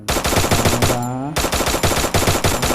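Rapid bursts of automatic gunfire in the video game Free Fire rattle loudly and close, with one brief pause and a metallic ring before the shooting resumes.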